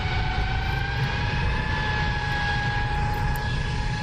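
Constant roar and whine of the F-106 Delta Dart jet in the DCS flight simulator, loud and steady throughout, with sustained engine tones over a broad rushing noise and no speech.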